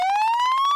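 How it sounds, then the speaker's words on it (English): A fire truck siren sounds at an apartment building in a game, a loud, close electronic wail rising steadily in pitch with a rapid pulsing warble, alone and without voices. "you can hear the sound of a fire truck siren swarming the apartment building"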